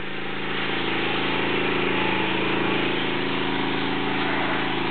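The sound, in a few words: Caterpillar 3208 V8 diesel engine running in Ford L7000 truck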